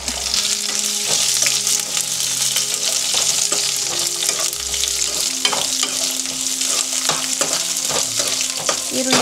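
Onions fry in a hot pan with loud, continuous sizzling and crackling, joined by repeated stirring scrapes and clinks throughout.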